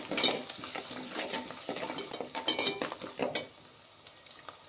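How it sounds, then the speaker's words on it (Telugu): Onions frying for a village-style bottle gourd and tomato curry, with steady sizzling and occasional scraping stir strokes against the pan, close and moderately loud, fading near the end. "ఉల్లిపాయ ఎర్రగా వచ్చేంత వరకు ఫ్రై చేసుకోండి"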